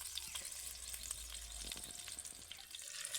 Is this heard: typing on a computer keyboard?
no